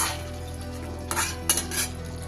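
Spices are stirred into chicken in a karahi pan, a few metal scrapes and clatters of the spoon over a low, steady sizzle, close and without speech.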